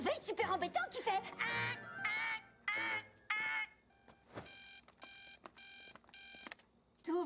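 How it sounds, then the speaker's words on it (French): An annoying alarm clock rings in a French-dubbed My Little Pony Equestria Girls cartoon, a run of five sharp, evenly spaced electronic beeps following a stretch of voices talking. "Tu n'as pas un réveil super embêtant qui fait..."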